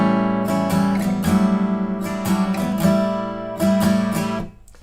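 Acoustic guitar strums the opening three chords of a song, with clear repeated strokes in a steady rhythm and sustained ringing chords up close, no voices.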